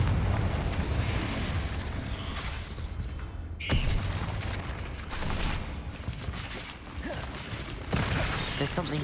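Fiery Confringo spell blasts in Hogwarts Legacy, a run of loud booming explosions with a sharp burst near the middle and rumbling crackle between, over game ambience.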